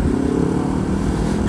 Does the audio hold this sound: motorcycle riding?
yes